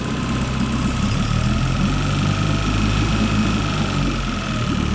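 A small two-cylinder four-stroke outboard boat motor idles at a steady, even chug, loud and close, with a constant mechanical drone and no talking.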